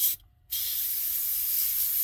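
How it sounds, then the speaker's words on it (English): Black spray paint hisses from a can onto a beginner model airplane: a brief burst, a short pause, then a long, steady, close spray with no talking. "I'm going to spray black"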